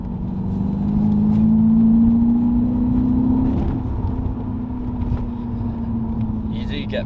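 A 2016 Seat Ibiza Cupra hot hatch pulling hard under acceleration, a steady close engine drone rising in pitch for a few seconds, then easing to a lower hum with cabin road noise.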